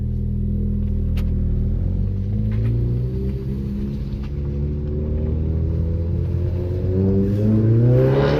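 A Ford Focus RS engine with a Turbo Smart blow-off valve fitted, running steadily with a deep rumble, then rising at the end as revs climb. The venting is not clearly separable from the engine note.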